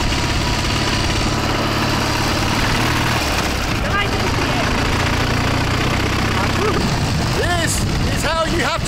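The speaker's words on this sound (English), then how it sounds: "This is how you have to travel through a Soviet exclave on a Soviet motorcycle." Soviet motorcycle engine running steadily on a ride through an exclave, a loud continuous rumble with wind, and excited voices and shouts over it near the end.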